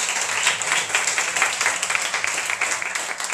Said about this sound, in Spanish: Yo quiero que le demos un aplauso.